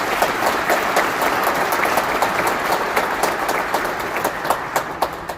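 An indoor audience at a Kosovo Independence Day celebration in New York City claps steadily for several seconds, a dense wash of many hands at moderate distance, thinning slightly toward the end.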